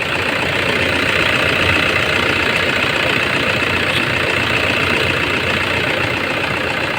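A Toyota Hilux 2.5 engine, just fitted with a new timing belt, idles loudly and evenly up close with a steady mechanical clatter and no pauses.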